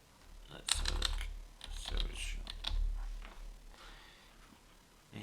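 Computer keyboard typing during a live Q&A session, a scattered run of quick key clicks heard close up with talking around it.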